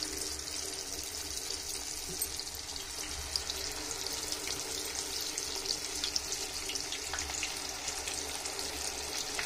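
Unniyappam batter frying in hot oil over a low flame, a steady close sizzle and crackle that holds at an even level throughout, with no talking.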